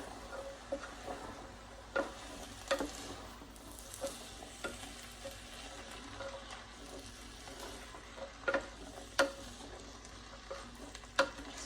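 Canned white beans are stirred together in a cooking pot for chili, with a steady scraping and wet mixing sound punctuated by soft clinks of the spoon against the pot.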